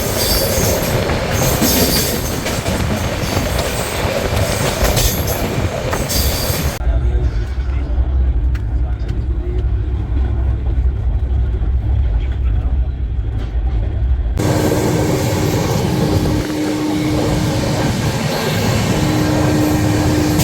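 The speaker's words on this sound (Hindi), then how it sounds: "This is push pull locomotive effect." Rajdhani Express 22221 on Central Railway, running under push-pull locomotive power, with loud continuous rail rumble and wheel noise, a quieter muffled stretch in the middle, then roaring train noise again with a squealing tone near the end.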